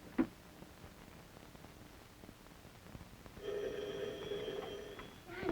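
A telephone rings once for a collect call in a 1970 radio-relay setting, a sustained electric bell trill lasting about two seconds, following faint clicks and a soft hiss on the line.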